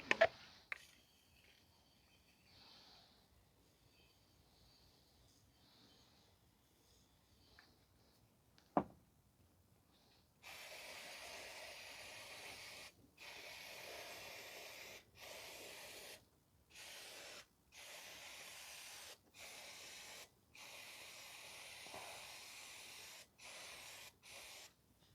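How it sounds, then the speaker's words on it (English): Brake cleaner sprays over the rear drum brake of a 2014 Chevrolet Sonic 1.8 in a run of close, hissing bursts separated by short gaps, following a quiet stretch with a few clicks. "wash everything down with the brake cleaner"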